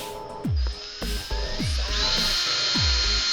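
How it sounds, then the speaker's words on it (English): A power drill runs steadily and loudly, its whine holding a continuous tone, with repeated sharp knocking thuds at regular intervals beneath it. "So make sure you keep your pressure back on your drill."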